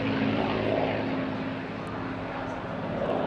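The P-51D Mustang "Warhorse" propeller fighter roars overhead in a summer air display, a steady, loud engine drone with a faint rise and fall as it passes.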